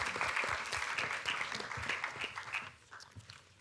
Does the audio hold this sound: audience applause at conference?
yes